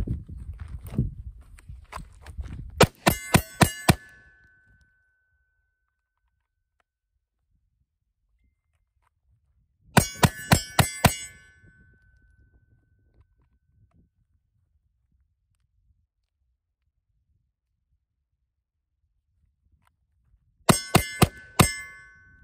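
SIG P365 compact pistol fired at steel targets, three rapid bursts of sharp shots each followed by bright metallic rings, separated by long silent gaps.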